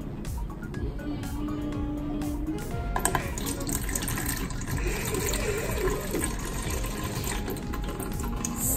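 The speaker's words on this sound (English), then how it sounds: "I'm gonna take all the water out the container." Water poured out of a plastic container from a children's crystal-growing kit, a steady splashing, trickling stream running for several seconds, with faint background voice.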